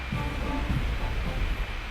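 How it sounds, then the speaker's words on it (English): A London Underground train rumbles steadily with low, continuous rolling noise in a video game intro for a Tube driving simulator. "And the oldest underground train system in the world."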